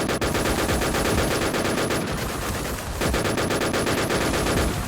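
Sustained automatic gunfire from the video game Warz Alicez, loud and close, rapid rhythmic bursts running almost continuously with a brief dip near the middle.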